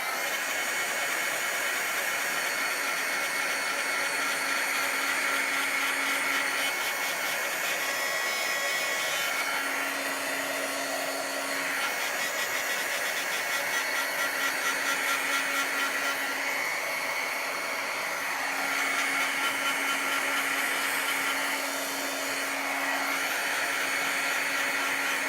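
A heat gun blows continuously over watercolour ink on paper during a card-making session, a steady close hiss-roar with a faint hum, lasting without pause and with no talking.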